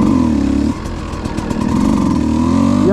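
A motorcycle engine revs loudly up close, dropping briefly to a lower idle before climbing again with a steady buzzing harmonic tone.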